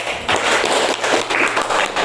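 Students in a classroom give a short burst of applause, a dense patter of hand claps heard close and steady for about two seconds.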